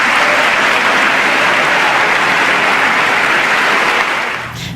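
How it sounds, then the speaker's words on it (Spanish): Loud, dense audience applause for Pope Francis in the United States, a sustained thunder of many hands clapping together that fades slightly near the end. "Todos aplaudieron"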